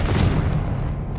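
The Confringo blasting spell explodes in the Hogwarts Legacy video game as a single loud, deep boom that rumbles and slowly fades over about a second.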